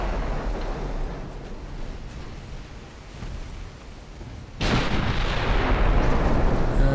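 Heavy naval gunfire from a battle cruiser in the naval combat game Ultimate Admiral: Dreadnoughts, a continuous rumbling barrage of booming shots that swells suddenly louder partway through, with no talk.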